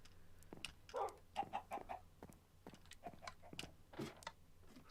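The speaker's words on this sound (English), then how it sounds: "Give the chicken some seeds." A chicken in the Minecraft game clucks in a run of short, soft bursts, quiet and irregular across several seconds with nothing else over them.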